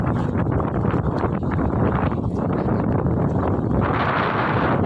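Steady wind buffeting a microphone, a continuous low rumbling roar with gusty fluctuations throughout, no voices.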